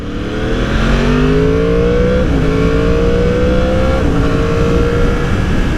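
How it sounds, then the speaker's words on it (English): Yamaha R1 sport motorcycle from 2020, stock exhaust, heard close and loud as the engine pulls steadily up through the gears with brief dips at each shift and no talking. "that's the nice thing about having the stock exhaust. It just lets that engine purr. You can hear all of it."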